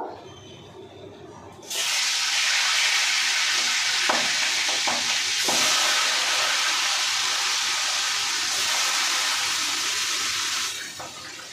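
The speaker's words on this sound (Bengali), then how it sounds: "কড়াইতে তেল দিয়ে দিয়েছি। এবার মাছগুলো ভাজা করব।" Katla fish frying in hot oil in a wok, a loud steady sizzle that bursts in abruptly and holds for about nine seconds with a few light stirring knocks before easing off.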